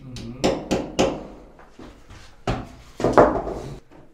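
Hammer tapping wall plugs into drilled holes while fitting a home ventilation unit, giving several sharp knocks, then a pause and a few more, close and fairly loud.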